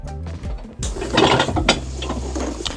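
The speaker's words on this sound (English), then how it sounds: "we're going to take the sole and we're going to sand all these old stitches and break them on the machine" A shoe-repair sanding machine grinds old stitching off a boot sole. After a short low motor hum comes a loud, close, rough whirring and rattling abrasion that carries on steadily to the end.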